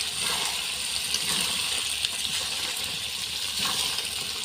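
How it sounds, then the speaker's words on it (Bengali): Water poured lightly into chicken meat cooking in a pan gives a continuous bubbling, hissing splash, close and steady, with no talk. "হালকা করে জল দিয়ে দিব।"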